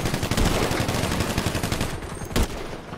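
Rapid automatic gunfire in the multiplayer video game FiveM, dense and loud bursts of shots rattling continuously with a sharper blast near the end.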